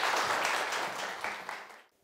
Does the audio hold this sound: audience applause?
yes